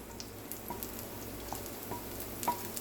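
Chopped onions frying in melted butter in a pan for Hatch green chile sauce: a faint, steady low sizzle with scattered light crackles and pops, no voices.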